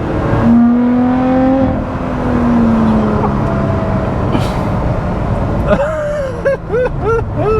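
A Lotus Exige Sport 390 Final Edition engine drones loudly and steadily, its pitch rising through the revs, then wavering tones and rumble as it keeps running close by.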